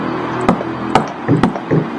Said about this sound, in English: When I heard the knock